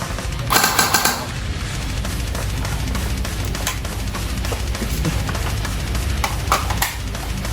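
A Double Bell SCAR-H airsoft gun fires a fast, sustained burst, a dense run of sharp mechanical clacks close to the mic, loud and continuous with a brief louder rattle near the start.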